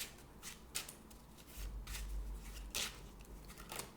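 Tarot and oracle cards being shuffled and pulled, soft repeated riffling and flicking of card stock close by, faint and intermittent with light handling noises between shuffles.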